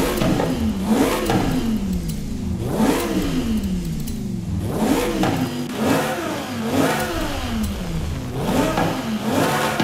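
A twin-turbo 1400HP Lamborghini Huracan engine in Forza Horizon 5 revs up and down repeatedly, its pitch sweeping up then falling back in several surges, loud and close with no speech.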